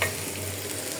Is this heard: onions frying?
yes